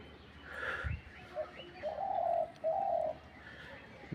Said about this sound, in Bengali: বুনো পাখি, এর ডাকটা খুব মিষ্টি।